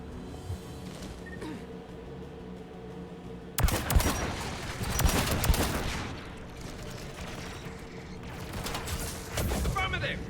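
Sustained gunfire from tower-defending guns in Mass Effect 3, starting abruptly with a loud burst partway through and continuing as dense rattling bursts and booms over a low background hum.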